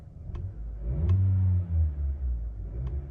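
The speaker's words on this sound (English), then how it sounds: "And a lot of revs." A black 2023 Honda Accord engine revs up to about 4,000 RPM at close range, a deep, steady rumble that swells and holds before easing back, with a few faint clicks over the top.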